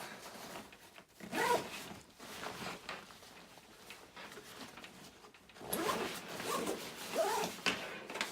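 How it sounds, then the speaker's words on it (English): Zipper being run along a carry-on bag, several rasping pulls in bursts with pauses between, close and fairly quiet, with no talking. "Opens all the way up, you got a zipper right here"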